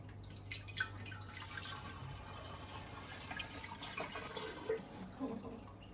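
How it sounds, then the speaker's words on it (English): Water trickles and drips softly into a Balinese glass bowl being tested for leaks, a faint, uneven splashing and dribbling with scattered small drops throughout. "I'm going to test it now to put some water in to make sure there's no holes"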